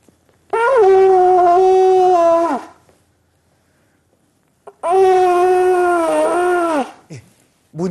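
A tertuang, a buffalo horn trumpet, is blown in two long, loud, droning blasts of about two seconds each, separated by a silent pause, with a slight wavering fall in pitch at the end of each note.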